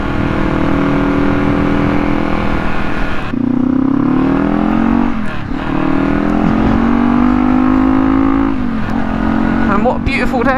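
A Kawasaki KLE500 motorcycle fitted with new Mitas E07+ tyres is ridden out on a road, its engine droning loudly and continuously, with pitch dips and rises as it shifts gears and accelerates.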